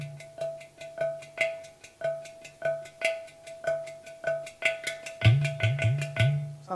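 Two ghatam clay pot drums of different pitch are played solo in a steady rhythm of sharp, ringing strokes, close and clear, with deeper booming bass hits rolling in near the end.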